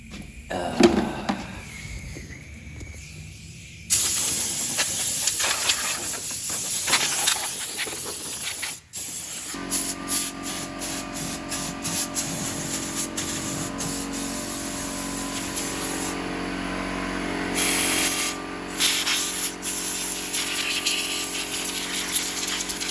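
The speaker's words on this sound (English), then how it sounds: "I'm going to use a little compressed air around this engine bay too" Compressed air hisses in long, loud blasts around the engine bay of a Volvo XC90, broken by short pauses and a couple of gaps, with a steady background whine underneath.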